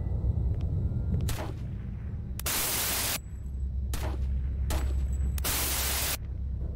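Video game gunfire: several bursts of harsh, static-like blasts, some short and some lasting nearly a second, over a constant low hum, fairly quiet overall.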